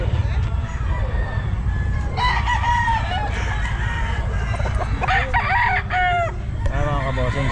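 A young gamecock stag, a white Kelso, crows repeatedly amid the bustle of the Bocaue pet market. Other fowl cluck nearby, and people talk close by under a constant crowd murmur.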